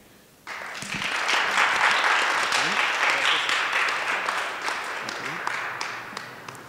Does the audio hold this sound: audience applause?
yes